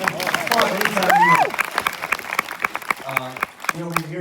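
An audience at the TV Academy in Los Angeles breaks into applause during a Q&A with a musician, the clapping mixed with cheering and talk at first, then thinning into scattered claps as voices come forward.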